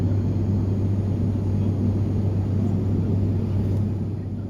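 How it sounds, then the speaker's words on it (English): Steady, loud cabin drone of an ATR-72 turboprop airliner in flight, a constant low hum with broadband roar that holds evenly throughout. "Noise is one of the biggest issues people have with turboprops."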